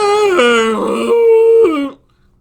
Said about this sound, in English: Melba gave the horn a mighty blow.